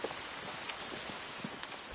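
Steady rain falling outside on a valley farm, a soft continuous patter of drops on surfaces, fairly faint and even with no voices.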